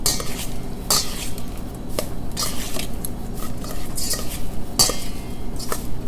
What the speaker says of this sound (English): So now we'll mix it with the spoon.